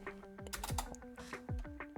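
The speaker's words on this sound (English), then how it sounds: "we type that up" Computer keyboard typing, a quick run of clicky keystrokes close to the mic, with a steady background tone underneath.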